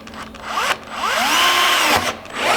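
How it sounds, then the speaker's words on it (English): An electric drill whirs steadily close by, boring a pilot hole into fiberglass, its pitch rising and dipping as it bites, with brief pauses between bursts. "Before I drill the 9 or 10 millimeter hole, I'm just going to do a little pilot hole here first"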